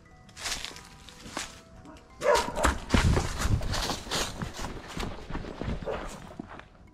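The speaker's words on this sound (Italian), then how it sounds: "Ci sono dei cani dietro la rete." Dogs bark from behind a fence on the grounds of an abandoned amusement park, a few scattered barks mixed with footsteps and voices talking nearby.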